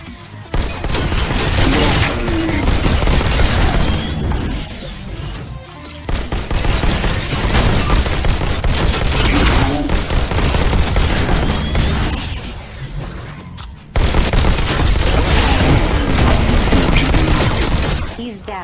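Rapid gunfire in the Robo Recall video game as shots pour into a large robot, dense loud volleys with impacts and crashes, a short pause near the middle and another before the final burst.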